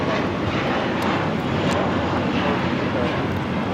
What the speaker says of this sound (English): 2091 taking off to Dallas-Fort Worth on the A321